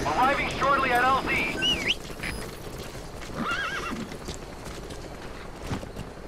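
A horse whinnies loudly at the start of a video game, followed by steady hoofbeats and game-like ambient sounds, with a short electronic chirp midway.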